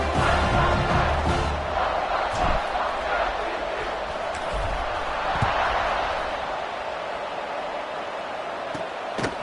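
Football stadium crowd in the video game NCAA 26 roars in a steady, dense wash of cheering, with a commentator talking over it and a few sharp thuds.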